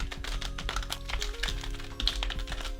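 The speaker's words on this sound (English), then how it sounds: "just give me a few seconds as I shuffle these packs together" Pokemon TCG Fusion Strike booster packs are shuffled by hand with rapid, close crinkly taps and foil rustles in a busy, uneven rhythm, while a steady tonal background hum runs underneath.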